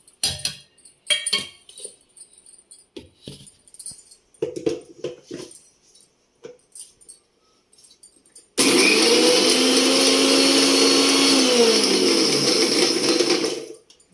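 A mixer grinder grinds urad flour with cardamom and sugar, roaring loud and steady for about five seconds after scattered clinks and knocks of loading the jar.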